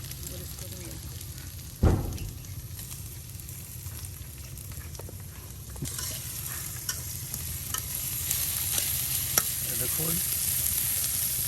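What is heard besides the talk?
garlic and onion frying in oil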